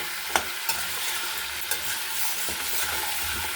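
Potatoes and tomato sauté together in a pan for chicken kosha with a continuous bright sizzle and a few sharp spoon knocks as they are stirred, close up and with no voices.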